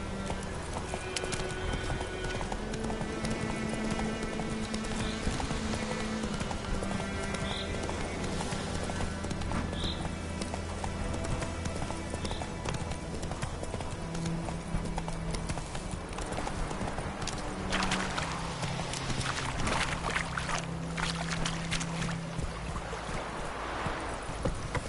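Roach, the horse in The Witcher 3 on PlayStation 4 Pro, trots with steady clip-clopping hoofbeats throughout, joined by a brief whinny and game music or ambience, with a little speech.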